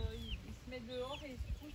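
Soft, brief clucking and chirping from two nearby mother hens, with rising peeping calls from chicks overlapping in a short burst.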